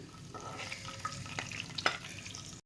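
Motichur laddu mixture with almonds and fried cashews is stirred by hand in a vessel, giving soft grainy scraping and rustling strokes with a few sharper scrapes, close and quiet with no talking.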